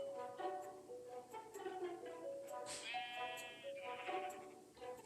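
Minecraft sheep bleat in a wavering, nasal call, with several close bleats rising and falling over steady game ambience and no talk.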